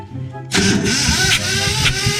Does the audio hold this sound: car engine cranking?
yes